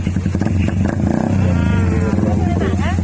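A loud motorcycle engine revs up close, its rough throbbing rising and falling in pitch as the throttle is blipped.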